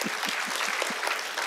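An audience at a Tamil public speech applauds, producing a continuous wash of dense clapping at moderate level, brief and steady from start to finish.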